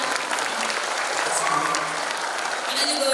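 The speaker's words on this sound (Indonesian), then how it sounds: "Tepuk tangan." Steady, dense applause from a university lecture audience at ISBI Bandung, continuous and fairly loud throughout, with no break.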